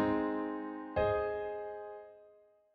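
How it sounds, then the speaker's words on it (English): Two piano chords sound one after the other, each a sharp attack followed by a long, slowly fading ring, quiet and alone. "And here are a few chords from a piano."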